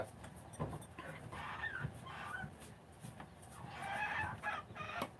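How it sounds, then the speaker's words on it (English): Chickens cluck and squawk intermittently, fairly faint against a background hum, with a few sharper calls rising near the end. "The chickens are making all kinds of noise."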